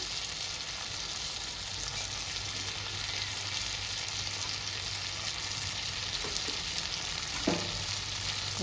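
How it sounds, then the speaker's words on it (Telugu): Tomato fries with soaked tamarind in a pan for okra chutney, making a constant close frying hiss with a few faint stirring knocks, no voices. "టమాటా చూడండి మంచిగా ఫ్రై అనమాట దీంతోనే నానబెట్టుకున్న చింతపండు వేసుకుంటాం"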